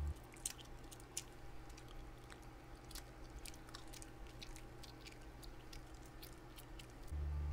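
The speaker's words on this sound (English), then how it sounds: "So what I realize is this whole video I've been chewing gum, and I hope I wasn't smacking" Gum being chewed with a smacking mouth, quiet wet clicks and smacks repeating irregularly and close to the microphone.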